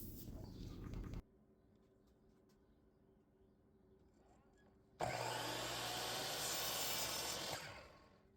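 A power saw cuts wood pieces for a nightstand build, with a stop block setting the length; a loud whining cut starts about two-thirds through and runs steadily before winding down, after a quieter stretch and an earlier burst.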